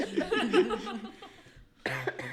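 A short burst of speech is followed by a quick cough after a brief pause, close and moderately loud.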